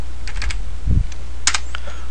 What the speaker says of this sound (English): So if I type in, let me see